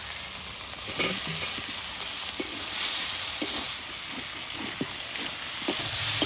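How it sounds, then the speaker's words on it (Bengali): Fried potatoes tossed into a spiced masala of turmeric, salt and oil in a pan, a continuous loud sizzle with scattered stirring clicks and scrapes. "এবার ভেজে রাখা আলুগুলো দেবো।"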